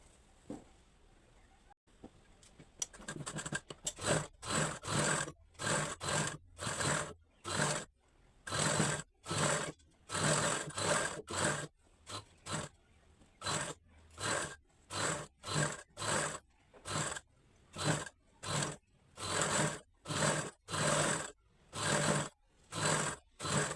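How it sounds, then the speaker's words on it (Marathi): A sewing machine stitches a folded strip of fabric for a Katori blouse, running in repeated short bursts with brief pauses, close and fairly loud, with no talking. "ही पट्टी जी आहे ना ही मधल्या साईडने फोल्ड करून तिथून आपल्याला स्टिच मारून घ्यायची आहे"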